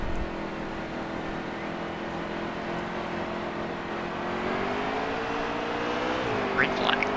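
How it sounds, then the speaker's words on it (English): Race car engines droning in a virtual stock car race at Richmond in a racing video game, a steady multi-layered engine hum that shifts pitch partway through, with a brief rising rev near the end. "make sure to turn your volume up and hear this engine roar"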